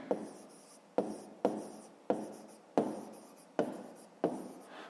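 A pen writes on paper during a fifth-grade maths exercise, with short scratchy strokes separated by about seven distinct taps as the pen lands, close and clear with no talking.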